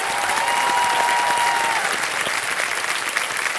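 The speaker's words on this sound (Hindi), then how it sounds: "तालियां बच जाए इनके लिए।" Studio audience applause on the Kaun Banega Crorepati set, a dense, steady wash of many hands clapping at full strength that holds for several seconds with no talk over it.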